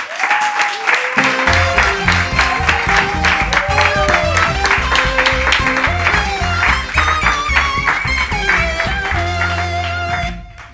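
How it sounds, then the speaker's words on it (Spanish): A studio audience on a Spanish karaoke talk show claps loudly and continuously while upbeat music plays strongly throughout, the applause blending into the music bed for the whole stretch. "vamos a darle un aplauso a David Pareja."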